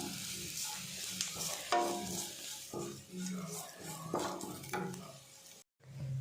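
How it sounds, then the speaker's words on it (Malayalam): Grated coconut roasting in coconut oil in a pan, with repeated close scraping stirs over a steady low sizzle and a brief break near the end. "ഇതൊന്ന് നമുക്ക് വറുത്തെടുക്കാം."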